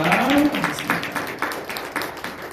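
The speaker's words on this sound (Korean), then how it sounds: "우리 경례의 박수 한번 하도록 하겠습니다" A church congregation claps during a Sunday service, giving a short round of steady, fairly close applause with rhythmic accents, heard alone without talk.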